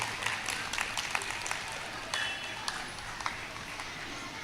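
An audience at a school annual day applauds, a faint, distant patter of many hands clapping with scattered sharper claps throughout.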